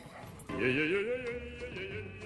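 A dog-like creature in the video game Star Citizen lets out a close, wavering whine or howl that rises and falls for about two seconds over low game ambience.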